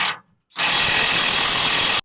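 A power tool whines loudly and steadily for about a second and a half, working to break loose the torque arm bolts on a trailer, after a brief short burst and pause.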